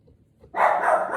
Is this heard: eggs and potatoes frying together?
no